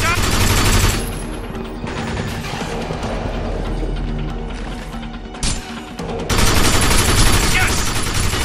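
Dense automatic gunfire from the video game Binary Domain, a loud continuous rattle with bursts that ease off mid-way, then surge again near the end, with game voices mixed underneath.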